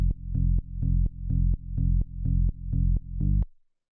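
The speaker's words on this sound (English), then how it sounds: "It has this nice kind of eighth note like pulsing pattern" An FM synth bass built from sine oscillators, pulsing in a steady eighth-note pattern of about fourteen even, punchy hits. It is loud and alone, with each note decaying before the next, and it stops abruptly at the end.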